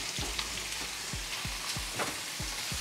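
Beef steak sears in a hot pan with a steady bright sizzle, punctuated by a series of soft low thumps as it is moved or pressed, no talking.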